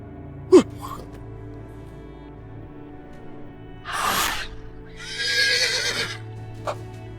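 A horse snorts, then gives two loud, wavering neighs close by against a quiet background, with a few soft knocks and breathy sounds in between.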